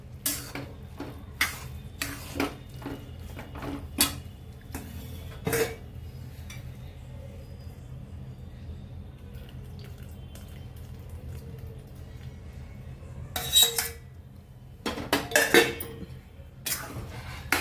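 Carrot halwa with milk stirred in a pan, spoon clinks and scrapes against the metal in irregular bursts with quieter gaps, close and fairly soft.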